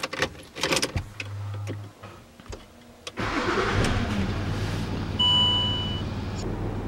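A Land Rover Discovery 3 engine cranks and fires into a loud, steady idle close by, after a few seconds of quieter clicks and mechanical noises.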